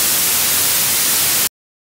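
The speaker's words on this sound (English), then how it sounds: "This is what the white noise looks like." White noise test signal from mastering software: a steady, loud, even hiss covering the whole range, running alone for about one and a half seconds before cutting off abruptly.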